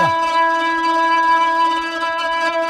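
A sustained, reedy synthesizer tone with rich harmonics from an Expressive E Osmose, a key shaken for tremolo, holds steady, wavering slightly in a tremolo-like shimmer throughout.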